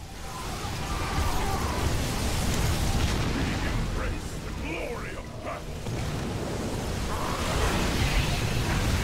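Steady, dense stream of StarCraft 2 co-op gunfire and explosive bursts over a constant rumbling backdrop, with a voice talking underneath throughout.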